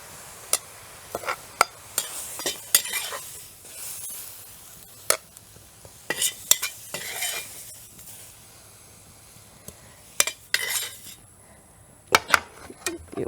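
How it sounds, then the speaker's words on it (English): Cooked sweet potato leaves are scooped from a hot pan, with faint sizzling underneath and scattered sharp scrapes and clinks of a utensil against the pan. "The leaf cooks really fast. You can scoop it up."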